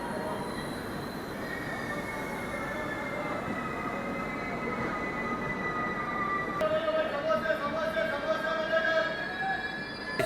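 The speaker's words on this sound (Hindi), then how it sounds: "कौन सी ट्रेन क्रॉस हो रही है मैं देख तो नहीं पाऊँगा। अच्छा, गुड ट्रेन है।" A goods train rolls past a halted express, filling the air with a steady rumble of wagons and a long, shrill wheel squeal that grows louder and sharper toward the end, with faint rhythmic clatter underneath.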